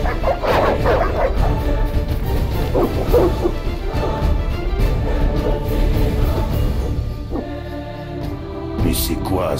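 Hostile dogs barking in The Witcher video game amid a village attack scene, repeated sharp barks and yips over a busy layer of game music and ambient noise, with some voices mixed in.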